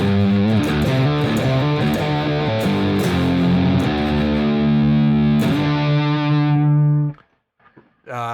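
Distorted electric guitar through a Bias amp model with the microphone moved off-axis to the side of the speaker, thick sustained chords ringing loud for about seven seconds before cutting off, with a short tail afterward.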